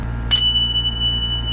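A single bright bell strike rung for an energy cleansing, its clear metallic ring sustaining over a steady low background hum.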